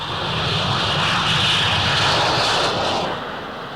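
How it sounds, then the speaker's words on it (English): A jet fighter's engine roars loud and steady for several seconds during a catapult-assisted takeoff from an aircraft carrier, swelling and then easing slightly at the end. "on an aircraft carrier, a jet fighter only has a very short distance for takeoff."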